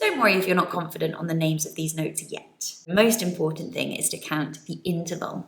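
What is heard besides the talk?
No everyday noises stand out.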